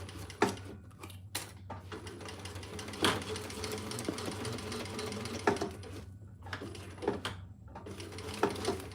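Sewing machine basting fabric pieces in place for a divided basket, running in a steady motor whir broken by sharp clicks and short bursts as the stitching stops and starts, with no voices.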